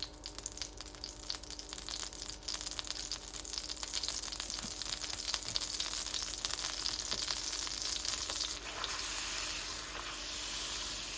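Aromatics go into a pan of spicy butter for New Orleans barbecue shrimp and fry with a steady, dense sizzle and hiss, close and continuous, with faint stirring and no talk.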